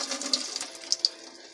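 Water is tipped out of a sterilized sprouting jar covered with gauze held by a rubber band, making a brief, close watery gush followed by a couple of small splashy drips.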